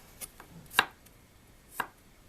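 A knife slices through crunchy, unfrozen asparagus on a cutting board, giving two sharp crisp cuts about a second apart and a few softer taps, close and fairly quiet with no talking.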